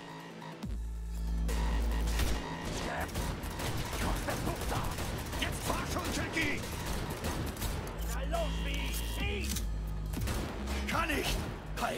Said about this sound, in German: Alle Beifahrer, das stimmt auch, können aus dem Fenster schießen.